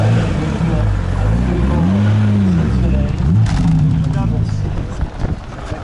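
A McLaren Speedtail sports car engine hums and revs, its pitch rising and falling, with people talking over it throughout.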